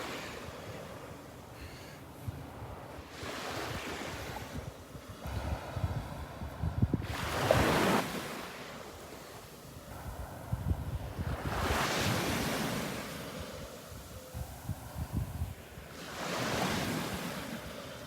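Small ocean waves break on Vanderbilt Beach in slow surges, each swell rising to a soft crash and then receding, with wind buffeting the microphone between them.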